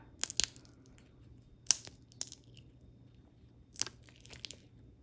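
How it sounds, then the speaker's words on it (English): Uncured resin with alcohol ink, left soft and tacky for six or seven days, crunches in a few sharp, crackly bursts with quiet gaps between them, close and moderately loud, with no talking. "That is the sound of resin not curing at all."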